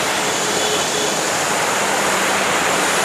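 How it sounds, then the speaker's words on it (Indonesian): Clear river flowing down from a waterfall in rural Subang, a loud, steady broadband rush of water that fills the scene without pause. "ini sungainya lumayan jernih, sahabat. Ini sungai yang mengalir dari curug"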